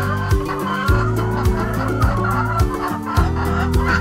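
Chickens in a poultry coop cluck repeatedly in short, overlapping bursts at close range, a busy, loud flock chorus with no talking.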